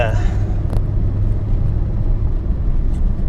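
A Simca 1307 S cruising at 100 km/h with its engine held near 4000 rpm gives a loud, steady low drone and rumble inside the cabin, with someone talking over it.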